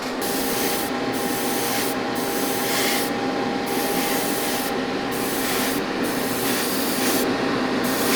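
A Mandalorian model kit being hand-sanded: a steady, close, dry rasping scrape that runs continuously, broken by several brief pauses between strokes, with no voices.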